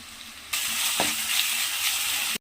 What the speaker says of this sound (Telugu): వెల్లుల్లి పేస్ట్ పచ్చి వాసన పోయేంత వరకు చక్కగా ఫ్రై చేసుకోవాలి